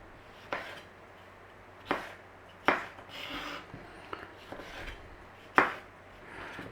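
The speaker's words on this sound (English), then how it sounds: "So we're just going to chop some tomato." Knife chopping fresh tomatoes on a board, several distinct cuts spaced irregularly with small clatters between, close and fairly quiet with no talking.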